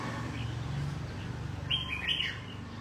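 An escaped caged songbird gives a short burst of chirps outdoors in a yard near the end, faint against a steady low rumble.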